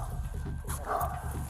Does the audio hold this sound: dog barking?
yes